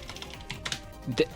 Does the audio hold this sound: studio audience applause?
no